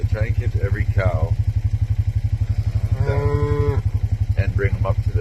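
Cows low on a farm in Alberta, Canada, with a few drawn-out moos rising over a loud, rhythmic chugging engine that pulses steadily underneath.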